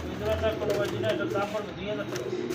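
Pigeons for sale at a market stall coo in short repeated throaty pulses, close by, mixed in with people talking.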